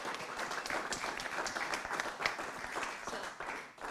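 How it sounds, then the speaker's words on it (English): A crowd applauds with many hands clapping in a dense, steady patter that carries on for a few seconds. "So if you could just give her a nice gentle round of applause"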